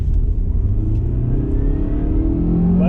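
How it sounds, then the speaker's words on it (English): A 2002 Toyota Camry at full throttle, its engine droning loud and close as the pitch climbs steadily through the rev range, with no talk. "I'm gonna floor it here."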